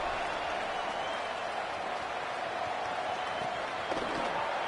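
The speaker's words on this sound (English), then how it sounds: "They got a lot to cheer about here at home." A home crowd at a college football game cheers in a steady, distant roar of mixed voices and applause, with no distinct single voices standing out.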